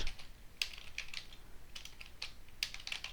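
Computer keyboard typing while writing a simple Python calculator program: light, irregular key clicks in short clusters, close and fairly quiet, with no speech over them.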